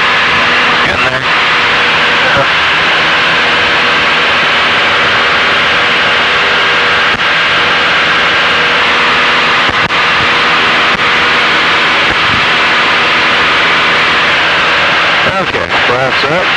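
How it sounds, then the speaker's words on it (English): A training airplane climbing out after takeoff from runway 30 at Scottsbluff in the landing pattern, a loud, constant engine drone with hiss and static, with intercom radio-style talk over the top. "We're on the climb out off 30 and we're going to be remaining in the pattern here at Scottsbluff"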